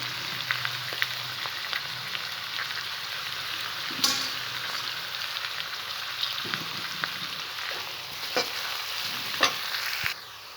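Green chilies sizzle and fry in a pan while a spoon stirs them, giving a soft continuous crackle punctuated by occasional scraping clinks, fairly quiet and close.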